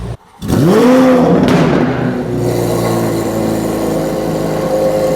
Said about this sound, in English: let's get it to the dyno and rev this monster out